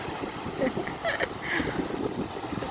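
Wind blows at Torquay beach, a rough rumbling buffet on the microphone with faint surf in the background and brief murmured voices.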